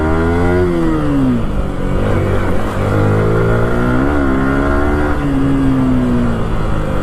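A second-hand Yamaha R15 motorcycle engine revving up and down close by, a loud harmonic drone rising and falling several times without pause.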